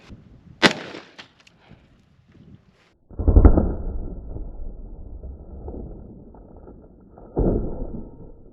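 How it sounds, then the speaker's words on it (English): A snub-nose S&W Model 627 .357 Magnum revolver fires into a 2-liter soda bottle, giving a sharp crack early on, then a loud burst and lingering spray-like rumble, and a second strong impact near the end. "Now we're gonna try the 357 against a 2-liter bottle of soda."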